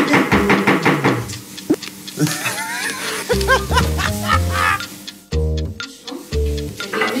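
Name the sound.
knocking on a door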